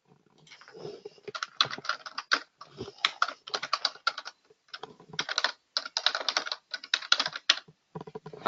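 Typing a chat message on a computer keyboard: rapid, close bursts of crisp key clicks separated by brief pauses, loud and alone with no voices.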